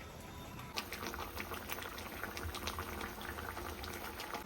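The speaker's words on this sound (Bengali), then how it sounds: "এই যে ডাল এখন ফুটছে" Dal (lentils) bubbles in a pot on a home stove, a soft, continuous simmer with faint popping bursts, quiet and close with no voices.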